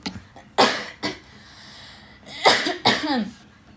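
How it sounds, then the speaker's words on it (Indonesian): A person coughs several times in short bursts, with pauses between, close and fairly loud. "Mau batuk."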